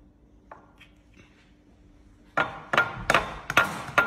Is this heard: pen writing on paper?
no